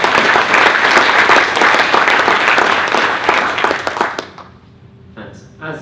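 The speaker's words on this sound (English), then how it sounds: "So if you all join me in a round of applause," Audience applause at a business awards event fills the room loudly and steadily for about four seconds, then stops abruptly, followed by a short quiet pause.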